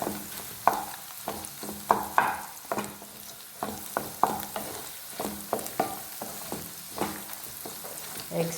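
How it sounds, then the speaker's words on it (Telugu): Egg and grated carrot fry in a pan with a steady close sizzle, broken by repeated sharp scraping clicks of a spatula stirring through the mix at an uneven rhythm, with no talking. "ఫ్రై అయిపోయిందండి ఎగ్ చక్కగా"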